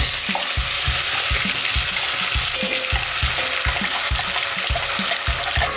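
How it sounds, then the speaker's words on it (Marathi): Ground spice paste (vatan) frying in hot oil with bay leaf, cinnamon, cloves and curry leaves for Maharashtrian misal, a steady loud sizzle with regular spoon scrapes and stirring knocks in the pan, close up. "आपण वाटण मिडियम गॅसवर दोन ते तीन मिनटं परतून घ्यायचं आहे"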